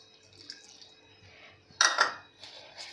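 Semolina and milk are stirred together in a bowl, giving soft wet scraping and light clinks of a spoon against the bowl, with one louder clattering scrape in the middle and quieter stirring around it.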